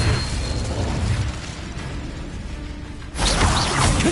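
Incendio fire spell cast in Hogwarts Legacy, a loud whooshing burst of flame that surges, eases into a rumble, then flares again in a sharp blast near the end.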